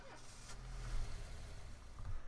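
A car engine in the video game This is the Police cranks and settles into a low, rumbling idle, steady and close, with no voices.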